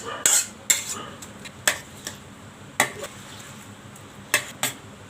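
A metal spoon scrapes and clinks against a pan while scooping out a prawn and pumpkin curry, giving a handful of sharp, irregular taps and scrapes spread over a few seconds, close and fairly clear.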